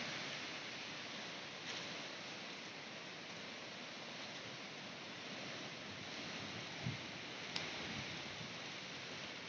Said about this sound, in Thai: เสียงคลื่นซัดสาด